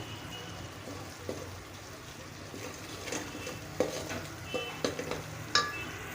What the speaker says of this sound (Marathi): मटण मसाला घालायचा आहे दोन चमचा हे बघा यात घालायची हळद पावडर छान असे परतून घ्यायचे आहे